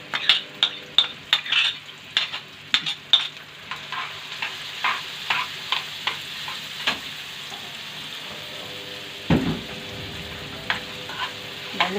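Chopped onion dropped into hot oil, crackling and spitting under a run of sharp metal spoon clicks against the pan, with a clatter near the end.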